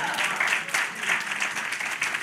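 An audience at a community outreach session claps together in a short, steady burst of applause lasting a couple of seconds, with a voice faintly mixed in.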